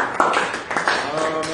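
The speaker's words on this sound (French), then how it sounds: "Donnons une forte acclamation." Church congregation clapping and cheering in brief bursts, close and fairly loud, with voices calling out among the claps.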